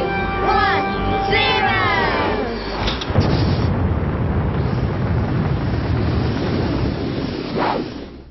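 A house cat in an empty room lets out a couple of short meows near the start, then a broad, steady whooshing wash takes over and continues to the end.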